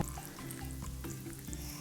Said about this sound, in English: All we do is add our wet ingredients into the dry ingredients.